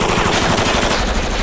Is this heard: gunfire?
yes